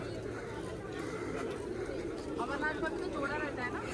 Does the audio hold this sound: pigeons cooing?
yes